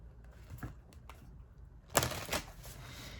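Rider-Waite tarot cards being shuffled, soft riffling flicks followed by a louder brisk burst of card shuffling near the end, close and without talk.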